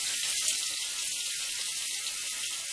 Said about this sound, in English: You run some hot water on the boot here.